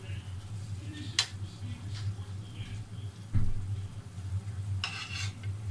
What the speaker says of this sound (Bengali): আমি মাছগুলো দিয়ে দিচ্ছি।